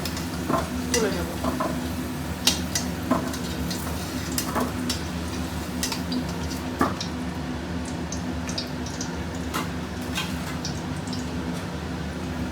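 Potatoes fry in hot oil with a steady sizzle as a spoon stirs and scrapes the pan in irregular clinks and rustles, close and moderately quiet, with no voices.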